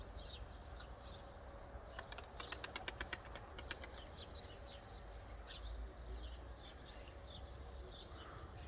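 A young blue male racing pigeon with 35 flights arrives, its wings giving a quick burst of sharp flapping claps among scattered chirps and steady outdoor background noise.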